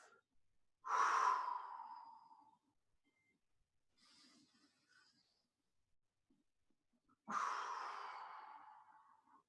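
Slow, deep breaths during a yoga practice, two long audible exhales several seconds apart with a faint softer breath between, close and otherwise quiet.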